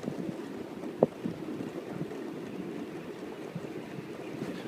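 Strong wind rushes steadily past while someone skateboards, a dense broadband roar buffeting the microphone, with one brief sharp knock near the start.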